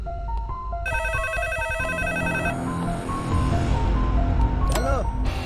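A telephone rings with steady electronic tones against a busy background, then breaks off and gives way to other noise and a short chirping sweep.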